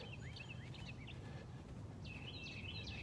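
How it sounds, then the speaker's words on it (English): Birds chirp outdoors on a morning, faint and somewhat distant, with short bursts of high tweets over a steady background rumble. "You might be able to hear those birds chirping."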